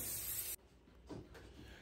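Cooking spray hisses from a can onto mini pie plates for Hong Kong egg tarts, one loud steady burst of about half a second followed by quiet rustling.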